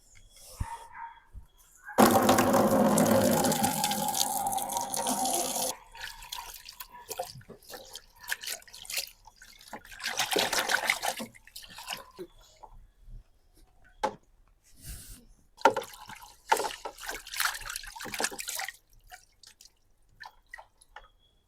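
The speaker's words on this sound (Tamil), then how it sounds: "தோசை செய்யறதுக்கு கீரையை நல்லா வாஷ் பண்ணிக்கலாம்." Mudakathan greens are washed in water, with splashing and trickling in bursts: a long loud pour early on, then sloshing, dripping and handling noises separated by quiet gaps.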